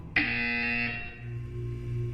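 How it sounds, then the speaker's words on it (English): A loud electronic buzzer from the video game Portal 2 starts abruptly and holds a bright, harmonic-rich tone for about a second, then gives way to a lower lingering hum. "You will hear a buzzer. When you hear the buzzer, look down at the floor."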